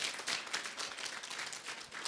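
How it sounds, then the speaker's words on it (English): A seminar audience applauds a trainer with continuous, fairly dense clapping from many people, steady in level and heard at moderate distance, without speech over it. "can we have a loud round of applause for him?"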